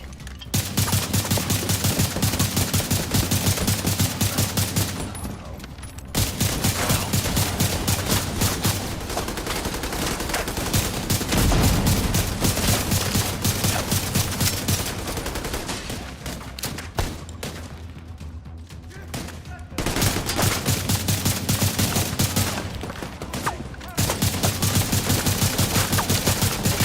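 Sustained automatic gunfire in a video game roars in dense, loud volleys for most of the stretch, broken by a few short pauses between bursts.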